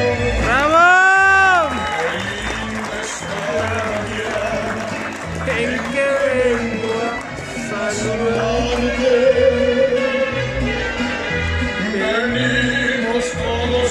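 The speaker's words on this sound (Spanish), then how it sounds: "Y que se escuchen los aplausos. ¡Bravo!" Guests at a 60th birthday celebration in El Palomo, Actopan, Hidalgo clap and cheer, with voices, shouts and singing mixed into a loud, continuous crowd noise.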